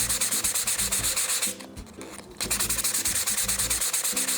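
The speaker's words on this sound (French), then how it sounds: "Du coup, on va poncer." A drinks can being sanded by hand to thin a small pinhole, fast, loud, close rasping strokes in a steady rhythm that stop for about a second before starting again.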